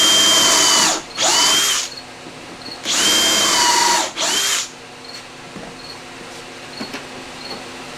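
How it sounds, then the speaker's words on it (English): A power drill pre-drilling wood for a cabinet runs in four bursts, two pairs of a second or less each, whirring loudly close by, then quiet with faint shuffling. "I'll just pre-drill down here."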